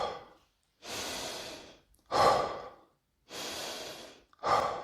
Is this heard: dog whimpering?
no